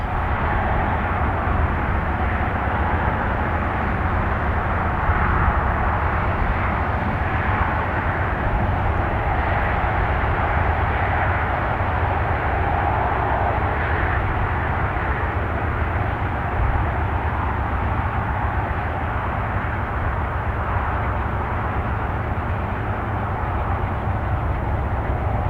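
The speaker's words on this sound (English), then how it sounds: "we catch the crew powering its train up the steep grade with all the effort that they can muster." A freight train led by three GE locomotives climbs a steep grade through the Columbia River Gorge, a loud, continuous diesel roar and rumble holding steady throughout with no voices.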